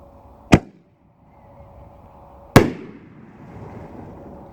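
A Pyrostar Red Apple 60g canister firework shell with a brocade crown and red strobe fires twice, each a sharp loud boom, the second followed by a long fading crackle and hiss, with no voices.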